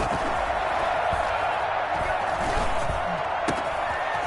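A stadium crowd roars in the Madden 21 football video game after a big play, a dense, sustained wash of cheering noise heard at steady loudness throughout.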